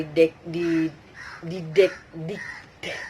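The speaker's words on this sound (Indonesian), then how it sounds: "Sepertinya burung gagak mengganggu saya." A crow caws in short repeated calls from moderate distance, several harsh bursts spaced irregularly while someone talks over them.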